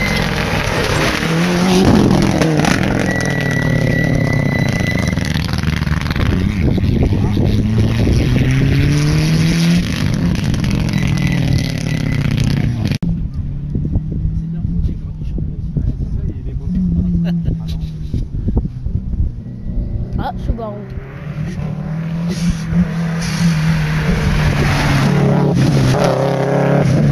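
A Mitsubishi turbo rally car at a rally in Épernay roars past, its engine rising and falling through gear changes, then fades briefly before the loud engine note returns, with a voice speaking in French at times.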